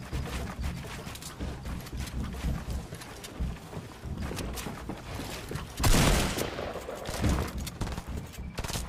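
Gunfire in the video game Fortnite during a Pro-Am tournament match, dense continuous rattling bursts over roaring wind-like noise, with a louder surge near the end, busy and close.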